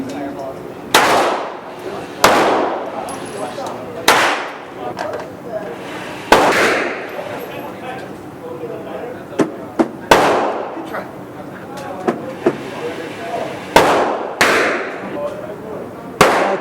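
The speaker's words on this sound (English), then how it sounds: "Kiki's shooting a 9mm." Sharp 9mm pistol shots crack out one at a time at an outdoor shooting range, roughly eight loud reports spaced a couple of seconds apart, each with a short echoing tail, while people talk between them.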